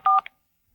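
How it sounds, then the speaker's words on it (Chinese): A phone number being dialed, heard as two quick electronic keypad beeps close together, followed by silence. "拨通了助理的电话"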